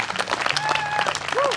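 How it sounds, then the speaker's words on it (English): A political rally crowd in Holland, Michigan breaks into sustained applause, dense clapping and cheering filling the space, with a voice over a loudspeaker carrying on above it. "let's keep that applause going for Genesis B, everybody"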